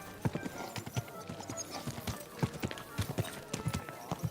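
Horse hooves clip-clop along a street in a video game, a steady run of sharp, fairly close hoof strikes with no talk over them.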